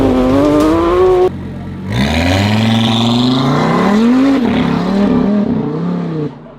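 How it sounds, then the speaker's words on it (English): A KTM X-Bow GT XR engine, driven without launch control, revs loud and close: one sharp blip cuts off, then a longer climbing rev rises, wavers and drops away. "without that launch control feature, I am unable to raise the revs to hit the turbo immediately"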